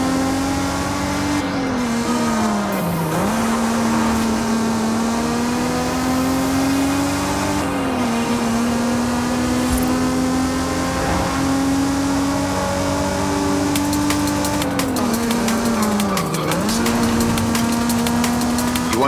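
Car engine from the racing game Forza Horizon 5, driven as a low car, holding a steady loud drone with rising pitch through the gears, dipping at shifts around every few seconds, continuous and close with no talk.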